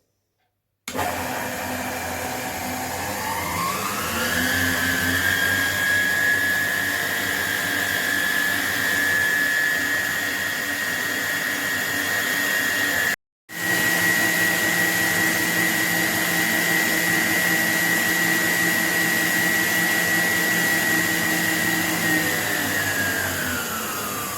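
A vintage Kenwood Chef A901e stand mixer beating carrot cake batter of butter, egg and sugar starts up with a rising whine, holds a loud, steady motor drone, briefly cuts out, then resumes and winds down.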